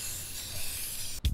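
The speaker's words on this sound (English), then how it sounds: "we're gonna just spray the top since that's all that's gonna be showing" An aerosol spray can hisses steadily while spray painting the tops of screws set in a box, one continuous close spray burst that cuts off abruptly near the end, followed by a brief clunk.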